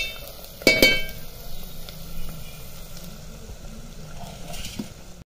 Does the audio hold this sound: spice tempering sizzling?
yes